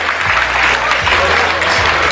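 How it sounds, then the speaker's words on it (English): An audience at an anniversary celebration claps loudly and steadily for a singer, a short dense burst of applause with faint crowd murmur beneath. "Give him a round of applause"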